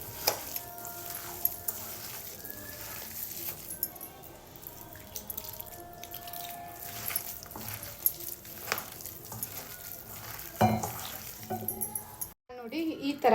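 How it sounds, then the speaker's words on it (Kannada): Spring-onion bonda batter being mixed with water makes close, wet squelching, slapping and dripping sounds in irregular bursts, with a brief sharp clatter near the end, and no voices. "ಇವಾಗ ನೀರು ಹಾಕಿ ಮಿಕ್ಸ್ ಮಾಡ್ಕೊಳ್ಳೋಣ ಚೆನ್ನಾಗಿ"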